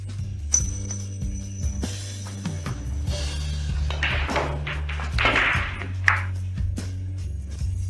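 Billiard balls struck in a run that clears the table give scattered sharp clacks and knocks, with one louder crack, over a continuous musical background.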